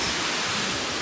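A waterfall at Tianmen Mountain roars as a steady, dense broadband rush of falling water, constant and loud throughout with no other sounds standing out.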